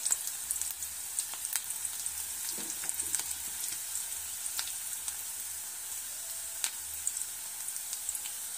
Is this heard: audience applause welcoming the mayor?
no